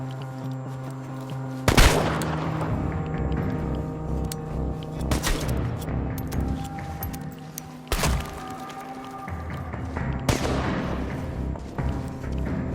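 Gunfire from a shootout in the video game Chernobylite, with loud bursts at irregular intervals over a steady droning game soundscape, some shots sharp and close, others rolling and heavier.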